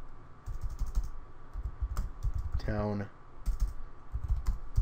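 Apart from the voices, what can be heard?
typing on a computer keyboard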